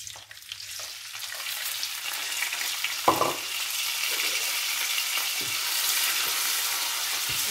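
Mushrooms fry in oil left over from browning rabbit, a bright steady sizzle that builds and stays loud, with one sharp knock near the middle and a few light clatters.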